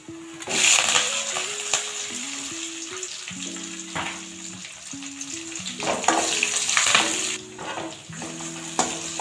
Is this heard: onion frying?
yes